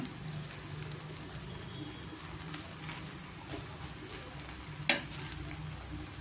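Cooked rice stirred into a garlic egg fry in a pan, a soft continuous scraping and low sizzle with one sharp clink of the spatula near the end.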